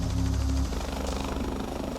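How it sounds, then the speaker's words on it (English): A rescue helicopter carrying paramedics flies over a cliff rescue at Bondi. Its rotor throbs as a loud, steady low drone that is strongest at first and then holds on. "There goes the chopper."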